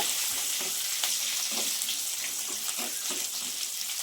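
Curry leaves crackle in hot oil with onion and peanuts for a wheat rava upma, a continuous close sizzle with soft stirring scrapes and small pops, no voices.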